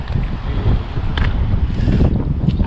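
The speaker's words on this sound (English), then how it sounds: "Man, that wind is pretty" Gusts of wind buffet the microphone with a loud, low rumbling roar that keeps going without pause, and nobody speaks.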